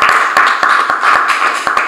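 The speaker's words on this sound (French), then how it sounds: "On peut applaudir." Steady clapping from a studio audience at the close of a French-language television broadcast featuring a church apostle: a sustained patter of hands with sharper, regularly spaced claps standing out, close and fairly loud, with no talk over it.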